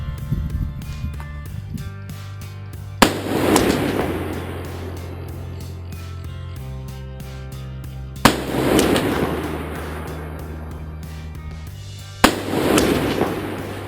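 Rifle shots fired at 300 yards through an ACOG sight: three sharp, loud cracks a few seconds apart, each trailing off into a long rumbling echo across open ground.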